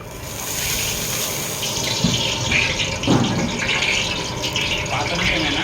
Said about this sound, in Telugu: ఉల్లిగడ్డలు ఇలా వాటర్ వేసేసి